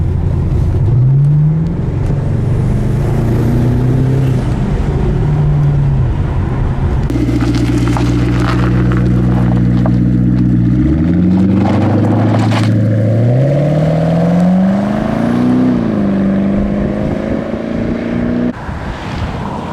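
A Maserati 3200 GTA with a twin-turbo 3.2-litre V8 and automatic gearbox drives hard and loud, its engine note rising and falling through several gear changes with no voices.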